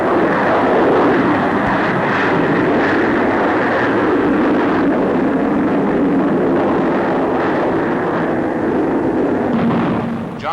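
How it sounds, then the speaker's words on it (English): A de Havilland 110 twin-engined jet fighter roars overhead at an airshow, a loud, sustained broadband jet rumble holding steady throughout before easing slightly at the very end. "Here is the de Havilland 110."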